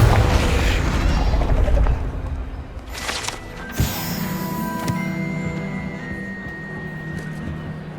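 Confringo fire spell cast in Hogwarts Legacy: a sharp burst near the four-second mark with a bright crackling whoosh, followed by a lingering fiery hum and tonal magic shimmer, over a busy rumbling game background.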